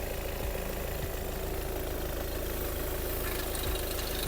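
A VW Passat Alltrack diesel engine idles steadily with a low, even rumble and faint knocking, close by and unbroken, with no voices.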